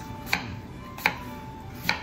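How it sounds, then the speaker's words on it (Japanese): A knife chops through an unpeeled apple on a cutting board, cutting it into small pieces for a blender: three sharp, separate strokes land roughly once every 0.8 seconds, close and distinct against a quiet kitchen background. "ちょっと細かく切ってミキサーに回しやすくね"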